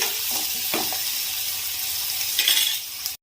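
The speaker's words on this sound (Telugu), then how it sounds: "ఇవి కొంచెం పచ్చి వాసన పోయేంత వరకు వేయించుకొని" Ingredients sizzle steadily in a pan for a tomato egg curry, a constant close frying hiss with a few soft stirring scrapes, alone without talk.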